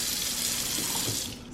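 Tap water runs steadily into a cooking pot being filled to cover chicken for boiling, a continuous close hiss and splash that thins slightly at the end, with no voices.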